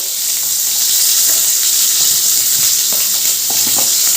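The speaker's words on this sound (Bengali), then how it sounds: "কড়াই আরেকটু তেল দিয়ে দিয়েছি এবার বাকি সবজিগুলো ভেজে নেব" Beans, carrots and other vegetables frying in oil in a wok, a loud, continuous sizzle up close with scattered soft clinks and scrapes of stirring.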